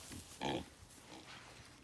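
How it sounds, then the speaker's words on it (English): Garden pigs grunt and snuffle close by, with one louder burst of grunting among soft, continuous rooting noises. "Got some garden pigs now."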